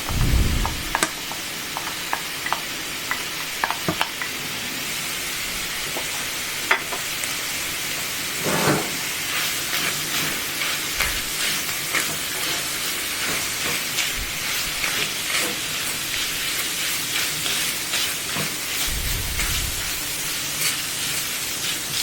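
Onions frying in a pan of beef ragu, a steady close hiss and sizzle over about twenty seconds with scattered clicks and a few low thumps, and no speech.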